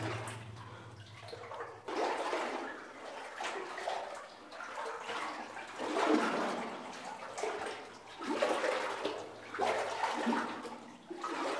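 Someone wading through water more than two and a half feet deep inside an abandoned lead mine tunnel, with repeated sloshing and splashing surges that swell and fade with each stride in an enclosed, echoing space.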